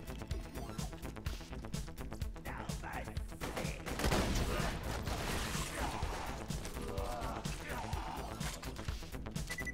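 Dense, rapid gunfire from the video game Borderlands 2 rattles in overlapping bursts and crashes for about ten seconds at a fairly low level, with faint talk mixed in.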